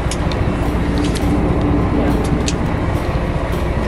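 Steady low rumble and road noise inside a Turkish night bus on the move, a continuous engine drone with faint rattles and occasional higher clicks, heard from the seats.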